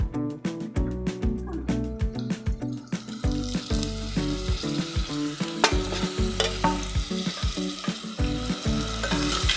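Onions and tomatoes fry in a pan with a continuous close sizzle, punctuated by a steady rhythm of spoon or spatula scrapes as the mixture is stirred.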